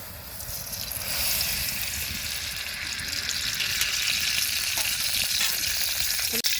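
Oil sizzles and crackles in a kadai pan, a steady close frying noise that grows slightly louder midway, with a faint clink near the end and no talk.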